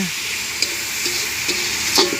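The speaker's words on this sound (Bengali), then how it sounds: "তারপরে কড়াই, তারপরে আলু লঙ্কা, এই যে ভাজা হচ্ছে" Potatoes and chilies fry in a wok set over a brick stove fire, giving a steady hiss with a few clacks of stirring spread across the short stretch, with no one talking.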